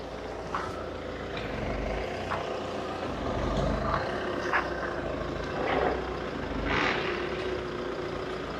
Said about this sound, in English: We'll wait for this car to pass.